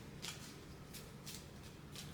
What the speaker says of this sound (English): I'm gonna shuffle them up.